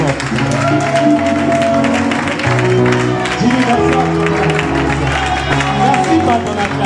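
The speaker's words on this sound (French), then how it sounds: "Dis-lui merci par ton acclamation." Church congregation applauding and acclaiming during a French-language service, a loud mix of clapping and crowd shouts under a preacher's amplified voice.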